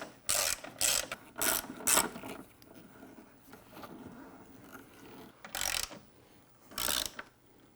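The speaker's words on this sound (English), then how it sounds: "we'll grab our 6 mil Allen, and we will tighten down the hinge bracket" A 6 mm Allen key ratchets a hinge bracket bolt tight on a Jeep Wrangler JL rear bumper. It gives several close, crisp clicking bursts, four in quick succession and then two more after a quieter pause.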